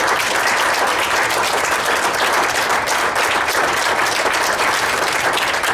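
A crowd at a congressional district debate in Pahrump claps continuously, a dense, even wash of applause held at steady loudness from start to finish with no voices on top.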